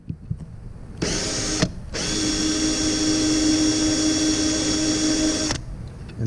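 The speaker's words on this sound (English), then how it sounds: "So we let the pilot go in the hole. And countersink the one." A piloted countersinker cuts into a rivet hole in aircraft sheet metal, a loud, steady power-tool whine close by in two runs: a short burst, a brief pause, then a longer sustained cut.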